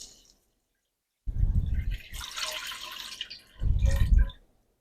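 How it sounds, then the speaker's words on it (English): Milk poured into a cooking pot of garlic and oil for a butternut squash and kale lasagna sauce, heard as two close liquid pours with a brief splashy patch between them, no talking. "I'm going to add in most of my milk."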